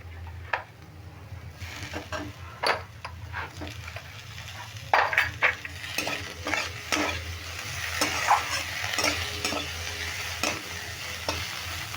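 Chopped tomato and papaya fry in a pan for a chana dal dish as a spatula stirs, bringing intermittent scrapes and clinks over a low, steady sizzle, close by and with no voices.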